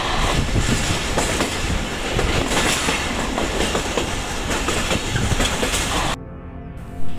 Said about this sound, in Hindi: कांटों से गुजरती हुई ट्रेन के व्हील्स की आवाज़ भी अपने लिए अजीब चाशनी रखती है